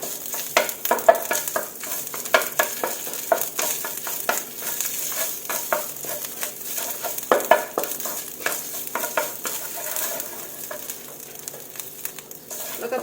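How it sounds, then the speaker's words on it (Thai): Red curry paste stir-fried in a pan for a Thai kaeng tepo pork curry, a hissing sizzle broken by frequent sharp spatula scrapes and clatters, close and fairly loud, with no voices. "ผัดให้หอมค่ะ"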